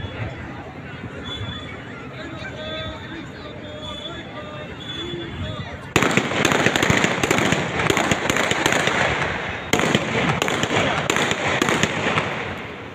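Fireworks and firecrackers crackle during a school-field parade and cultural event, first a faint background, then a dense, loud sputtering burst of rapid pops that breaks off briefly and resumes, with crowd chatter around.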